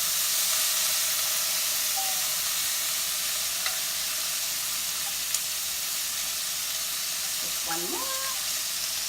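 Vegetables sizzle in a pan just used to cook tilapia, a steady hissing fry with light stirring clicks and a brief spoken remark near the end.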